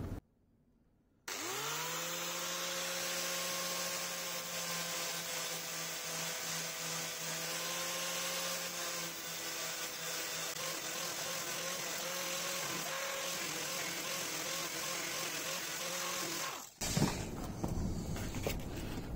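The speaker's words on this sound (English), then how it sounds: "gone for the angle grinder" A high, steady mechanical whine from an angle grinder cutting Yamaha XJ650 motorcycle clutch plates, with a strong droning pitch for a long stretch, then cuts off abruptly into a few clattering knocks.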